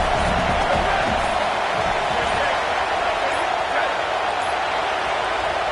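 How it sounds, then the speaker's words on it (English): Home crowd roaring in a college football video game stadium, a steady, dense wall of cheering that holds loud and unbroken throughout, with a faint voice underneath. "And how nice is it to have the home crowd going absolutely bananas?"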